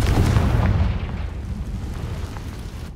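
Confringo blasting spell in Hogwarts Legacy going off as a deep, rumbling explosion, loud at the start and then trailing into a dull, decaying roar with no voices.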